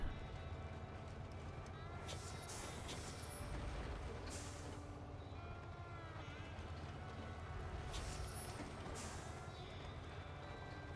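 Air brakes on a heavy truck in SnowRunner, on a rough road in Michigan near Smithville Dam, release several loud hissing bursts over a constant engine rumble while a voice talks.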